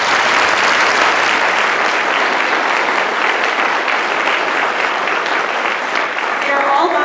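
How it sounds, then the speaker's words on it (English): Dense, sustained applause from a community orchestra's winter concert audience, loud and continuous throughout with no pauses. "a great round of applause."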